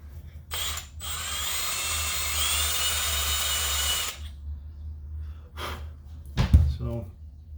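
A drill bores into the metal flywheel of a Zenoah RC model helicopter engine to balance it, whining steadily for about three seconds up close, then falling silent before handling clunks and a short knock.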